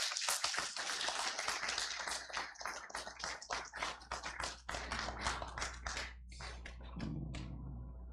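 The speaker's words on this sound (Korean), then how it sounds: "우리 큰 박수로 환영합니다." A church congregation at a Sunday worship service applauds to welcome newcomers, with dense, sustained clapping from many hands that fills the room, then thins out near the end.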